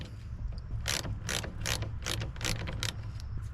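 A ratchet fitted with a 1/2 inch socket works an alternator bolt loose on a first-generation Cummins, giving several crisp, evenly spaced clicking bursts up close in a quiet space.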